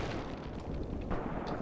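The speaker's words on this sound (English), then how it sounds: "Mortar shells are landing on the enemy forces." Mortar shells land on enemy positions in the war game Graviteam Tactics, a short burst of heavy, rumbling impacts with a sharp crack near the end.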